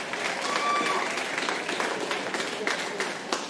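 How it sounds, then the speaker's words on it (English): An audience at a live comedy show claps and cheers for a comedian, a steady wash of applause with a few sharper claps, while a host's voice carries on over it. "Come on, clap it up nice for Shane Torres,"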